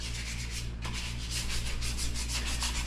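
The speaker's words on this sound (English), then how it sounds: "Little one sanding everything for us today." Steady, continuous rhythmic rasping of sandpaper scrubbing back and forth over rusty metal, close and fairly loud.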